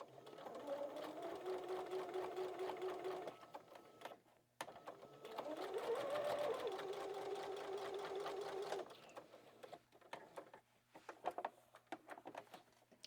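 A sewing machine stitches a fabric gift tag around a circle with a quarter-inch seam. It whirs in two long, steady close runs with a short pause between them, followed by scattered clicks and taps.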